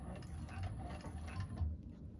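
A 1341 cylinder arm sewing machine runs a short back stitch while making a bag, giving a quick mechanical clatter of needle and gears that stops near the end.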